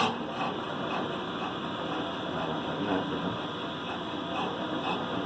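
Brake lathe blade cutting a worn brake rotor, a steady loud grinding scrape with faint rhythmic pulses as the bit skips across the uneven surface, close and continuous with shop hum beneath.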